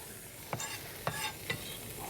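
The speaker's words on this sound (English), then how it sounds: "We better hear a sizzle." Three short bursts of crackling sizzle as onions drop into a hot frying pan, over a steady low hiss of frying.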